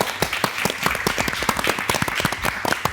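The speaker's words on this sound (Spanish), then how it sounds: "Fuerte el aplauso." A studio audience at a Chilean televised panel on national drought gives a brisk round of applause, many distinct claps close and rhythmic for a few seconds.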